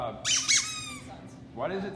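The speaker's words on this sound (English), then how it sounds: "Here's a squeaky toy" Two quick high squeaks from a dog's squeaky toy near the start, followed by a third softer squeak, with talking running underneath throughout.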